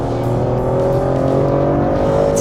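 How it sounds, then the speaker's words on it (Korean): Maserati Grecale Trofeo with its Nettuno engine on a race circuit, its loud exhaust note holding a steady, raspy drone close by throughout. "이 트로페오 배기음을 들어보니까 확실히 더 카랑카랑하게 느껴지는 것 같고요"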